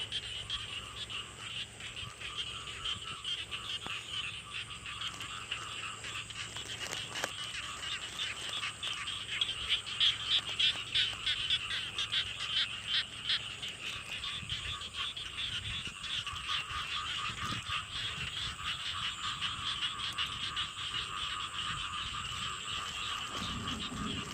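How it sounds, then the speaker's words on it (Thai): Frogs croaking in a rice field behind a house, a dense continuous chorus of rapid calls at a steady moderate level, outdoors with no talking. "มีเสียงกบได้พี่น้อง"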